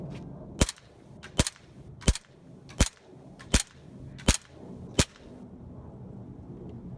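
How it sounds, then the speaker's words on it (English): An ASG CZ75 SP-01 Shadow airsoft pistol fires seven sharp, snappy shots outdoors at a steady pace of roughly one per second, each crack distinct against quiet background. "let's go outside, let's put some rounds through this thing and see how it's shooting"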